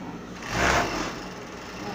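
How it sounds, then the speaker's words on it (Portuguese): An overlock serger stitching fabric for a child's unicorn dress, a short burst of fast mechanical whirring that swells and fades within a couple of seconds. "Vamos então pegar e passar no overlock."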